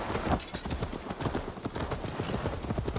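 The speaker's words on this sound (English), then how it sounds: "Now to deliver Magni his horse." In Assassin's Creed Valhalla, a horse's hooves clip-clop in a quick, steady rhythm on hard ground, close and continuous, with faint ambient noise underneath.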